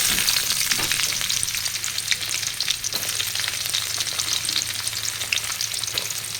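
Ginger, garlic and green chilies fry in hot oil with mustard seeds already popped, producing a steady close sizzle with occasional stirring scrapes and no speech.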